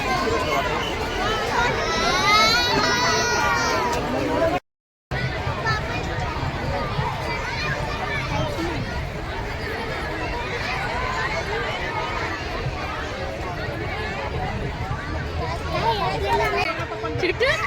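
A busy park in Pune, crowded and noisy, fills the air with steady hubbub: overlapping chatter of adults and children, with running footsteps, close and continuous, with one brief dropout near the start.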